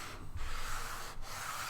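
Sandpaper rubs back and forth on the wooden body of a guitar under construction, a close, steady abrasive scraping in long strokes with two short pauses between passes.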